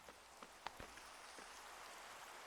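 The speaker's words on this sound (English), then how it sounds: "It's raining." Steady rain falls in a Minecraft game world, a soft continuous hiss with a few sharper scattered drops, faint and without any voices.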